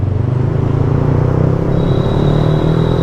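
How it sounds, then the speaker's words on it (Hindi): Loud, close motorcycle engine rumble on a Sunday road ride, a steady throbbing drone with road noise and a faint whine rising near the end, no talk. "देखो आगे साक्षी जा रही है मेरी बाइक लेके।"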